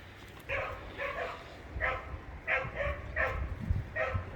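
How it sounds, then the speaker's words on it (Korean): A puppy, a Korean dog, barks loudly in a series of short, sharp yips and bow-wows spread across several seconds, close to the listener, with no talk over it. "왜 저렇게 시끄럽게 짖나"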